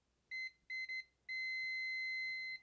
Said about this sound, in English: it'll give us a beep on yellow and black.